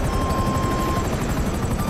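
A helicopter flies in Grand Theft Auto, carrying cargo. Its rotor makes a loud, steady chopping whir that fills the short stretch without a break, with a thin whine running over it.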